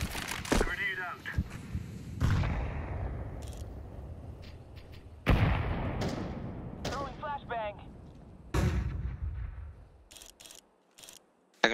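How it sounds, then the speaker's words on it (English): Grenade blasts and gunfire in a tactical shooter video game come as several sharp, loud bursts with decaying rumbles. Game voices and radio chatter speak in between. "Grenade out."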